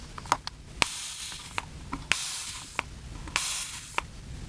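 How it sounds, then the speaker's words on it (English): A fine-mist spray bottle of water is pumped several times, each squeeze giving a short airy hiss between soft clicks and quiet pauses. "you get your spray bottle, and I've got this really fine mister I use for my hair"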